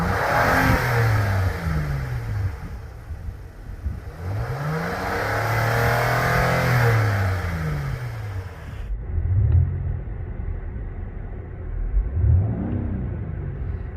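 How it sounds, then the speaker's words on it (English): An Acura TLX A-Spec engine revs repeatedly from inside the cabin, pitch sweeping up and down in rising and falling surges, a muffled droning rumble throughout. "that's what the engine sounds like"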